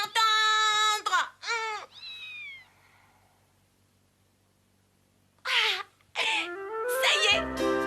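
A cat meows loudly several times in quick succession up front, falls quiet for a few seconds, then yowls again in a cartoon setting; the speaker's repeated "miaou" falls outside this clip.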